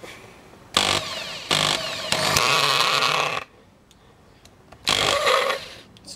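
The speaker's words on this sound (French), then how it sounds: "vous prenez une mèche pas plus grosse que ça sur votre perceuse et vous percez un trou juste à côté" An electric drill boring a hole beside a dock post, heard as loud bursts of whining motor noise separated by brief pauses, with a final burst after a quieter gap.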